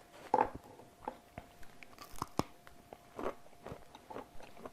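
Crisp bites and chewing of a crunchy Latvian oat biscuit made with whole oats, close and quiet, several sharp crunches spaced apart with softer chewing between.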